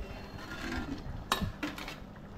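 Lid lifted off a pot of simmering giant mullet fish pieces, a few faint metallic clinks and a soft clatter over quiet background hiss.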